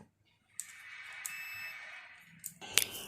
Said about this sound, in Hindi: डिजिटल मल्टीमीटर रीडिंग के साथ बीप दे रहा है, यानी हमारा स्पीकर बिल्कुल ओके है।